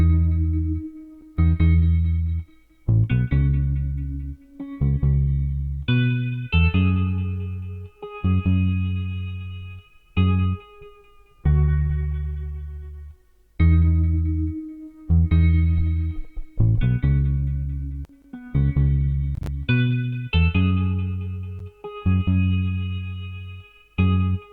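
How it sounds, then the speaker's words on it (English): An electric guitar with effects plays a 70s soul-style melody that follows the top notes of a chord progression, in distinct plucked phrases with decaying notes and short gaps, clear and prominent. "The next element you need is an electric guitar playing the melody,"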